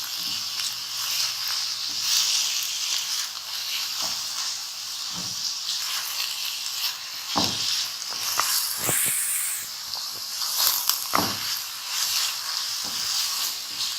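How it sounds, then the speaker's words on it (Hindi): Beef and chicken qeema frying with onions in a pan, a steady close sizzle with occasional stirring scrapes and clacks, no voices. "इसको प्याज के साथ थोड़ा सा फ्राई करना है हमने"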